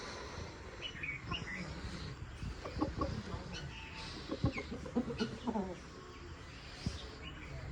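Hens clucking softly in short irregular bursts, fairly close, in a village, with quiet background ambience and little else.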